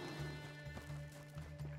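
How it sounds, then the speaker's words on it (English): A horse in a video game runs with rhythmic hoofbeats clopping over a steady low hum of game sound, the steps moderately loud and even. "Horse is coming from the other side of the fucking base"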